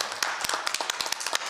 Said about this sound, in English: So if you just take a moment to acknowledge him and applaud him for his work and his service.